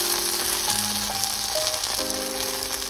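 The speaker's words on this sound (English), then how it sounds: "Flip and allow the oil side to cook." Chapati cooking in oil on a hot pan, a steady close sizzle throughout with faint tonal hum in the background and no talking.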